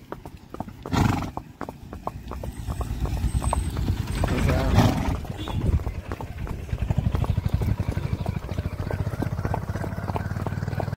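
A mare's hooves clip-clop steadily at a walk along a road, close and fairly loud, with firecrackers going off nearby and occasional whinnies.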